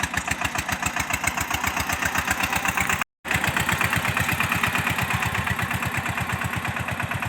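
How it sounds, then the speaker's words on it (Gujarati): A tractor engine running steadily in a farm field, a loud, even chugging pulse that continues throughout, with a momentary dropout midway. "ટ્રેક્ટર ચાલુ કરી દીધું છે"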